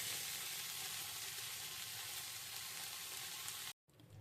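Aubergine pieces fry in hot oil in a wok, a loud, steady, close sizzle that runs unbroken before a brief silent gap near the end, with no voices.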